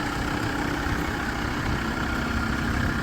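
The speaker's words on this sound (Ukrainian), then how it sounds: "Двигун заведений" Engine idling steadily in a used commercial van or minibus at a car market, a constant low rumble with no change in pitch or rhythm, close and filling the whole moment.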